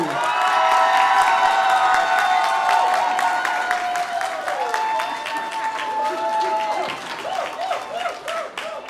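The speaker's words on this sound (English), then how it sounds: "give her a big round of applause" An indoor audience at a Hispanic Heritage Month celebration applauds and cheers for a local legislator, a sustained wash of clapping with whoops and voices mixed in that gradually thins out.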